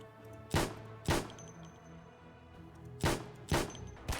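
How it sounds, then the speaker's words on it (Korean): Magnum gunshots in a video game ring out as four or five loud, sharp cracks, spaced irregularly with a brief echoing tail, over a quiet hum of game ambience. "매그넘 소리 졸라 크고 진짜 폭죽 터지는 소리 들린다"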